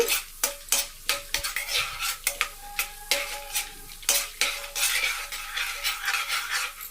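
Ginger, onions, curry leaves and green chilies fry in a pan while a utensil stirs and scrapes in a steady rhythm of clinks over a continuous sizzle, close and fairly loud, with no talking.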